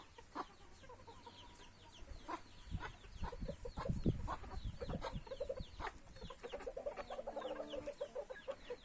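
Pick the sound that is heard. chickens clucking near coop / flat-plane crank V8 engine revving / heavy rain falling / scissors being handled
chickens clucking near coop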